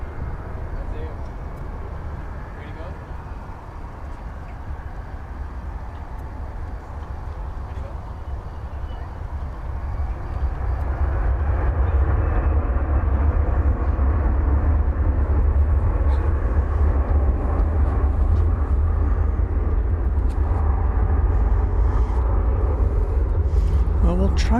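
An airliner takes off at DFW Airport, a broad rumbling roar that swells noticeably partway through and holds loud, with talk heard alongside.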